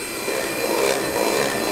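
A whisk beats eggs for a Swiss roll with a steady, dense whirring rush at constant loudness throughout the short stretch and no voices.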